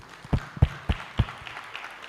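At a university orientation, a small audience claps in four distinct, evenly spaced beats, sparse and somewhat distant, rather than sustained applause.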